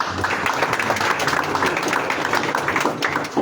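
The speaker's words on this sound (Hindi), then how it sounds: "आपकी स्पेशल तालियों में उस्ताद डॉक्टर फरीद साहब" Steady audience applause at a master-and-student ceremony in Lahore, many hands clapping together in a continuous crackling wash with no break.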